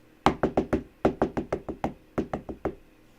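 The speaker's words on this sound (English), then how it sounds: "Somebody's knocking on the floor and there's nobody home but me." Knocking on a floor from somewhere in a house: about fourteen sharp, hollow raps in quick irregular bursts, close and fairly loud, with nothing else heard.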